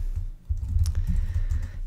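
A computer keyboard is being typed on with a microphone close in front of it. A rapid, uneven run of soft key clicks and thumps plays alone and up close for about two seconds.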